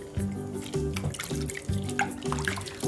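Hands are washed in a bowl of water, giving repeated sloshing splashes and drips in an uneven rhythm, close and moderately loud.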